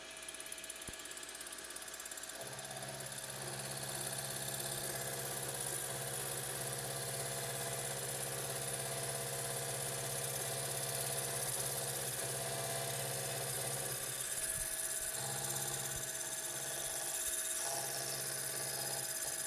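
A shop lathe runs at 1000 RPM while cutting into a small metal part for desoldering tips, a steady mechanical hum with a faint high whine that holds throughout, with brief dips and changes in tone near the end.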